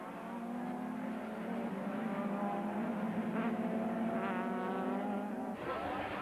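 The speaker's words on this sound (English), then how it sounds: "Duval is under tremendous pressure from the Opel Astra, and Briggs is going for the inside line" Touring cars, including an Opel Astra, race wheel to wheel for the lead at Killarney circuit during a 1994 South African championship round, engines droning steadily close by with a brief rising rev and a shift in pitch near the end.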